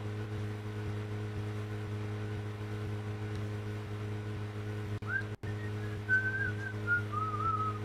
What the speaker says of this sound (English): your whistling really ain't doing us any favors there, York.